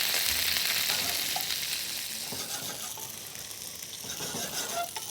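Pumpkin gnocchi sizzle steadily in sage butter in a pan, a dense continuous fizz with occasional small pops and light clinks, close and fairly quiet, with no talking.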